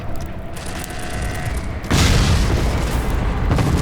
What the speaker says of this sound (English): A mix of bombs and bullets fill the air. Explosions shake the ground